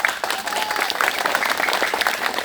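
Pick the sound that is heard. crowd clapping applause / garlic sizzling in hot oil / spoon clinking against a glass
crowd clapping applause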